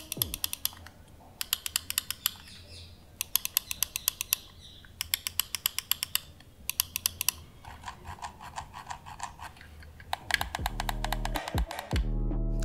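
Optical switches on a Razer Cobra gaming mouse click in rapid, tight bursts, close and crisp, with short pauses between runs, ending in a low steady hum.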